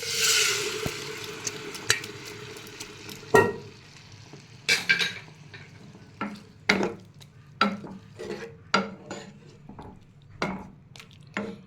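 Dal is tipped into a hot pot of tempered spices, then a run of metal clanks, scrapes and stirring knocks follows at a regular pace over a low sizzle, close and clear with no talking.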